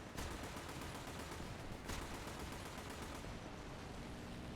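A T30 tank cannon fires in War Thunder: a sharp blast near the start and another just before the two-second mark, over a steady wash of loud battle noise.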